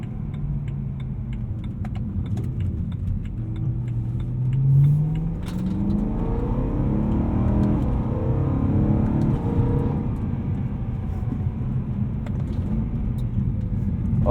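A tuned 2010 BMW E92 M3 V8 drives and turns around on a New Hampshire road, engine droning steadily up close with a brief rev swell midway and continuous road and tire rumble.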